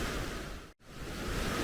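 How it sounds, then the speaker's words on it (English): Rushing water from a waterfall and river at a canyon along the Icefields Parkway, a steady loud broadband roar that cuts out briefly near the middle and then resumes. "Well, where the waterfall comes."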